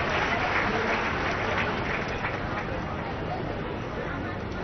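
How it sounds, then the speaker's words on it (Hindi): Loud, steady applause from a large audience at a public event in a Bhilai stadium welcomes a young poet. It is a continuous wash of hand claps with faint crowd murmur beneath. "जोरदार ताली के संग हमारे युवा साथी के स्वागत करो"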